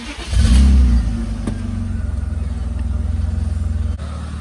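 A BMW E36 engine cranks and catches, flares to a loud rev, then settles into a steady, rhythmic idle close to the microphone, running alone with no voices.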